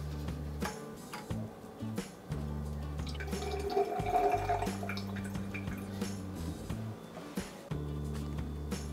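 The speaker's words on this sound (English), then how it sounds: "Now we're gonna drain the tank of the RO." Water drains and drips from the tank of a PureBlueH2O reverse-osmosis filter system, a steady trickle with intermittent drips and a low gurgling hum running throughout.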